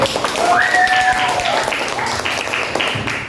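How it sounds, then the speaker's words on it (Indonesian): Students clap at the close of a classroom lesson, a sustained patter of many hands, fairly loud and even, with a faint voice or squeak briefly over it. "Tepuk tangan sekali lagi."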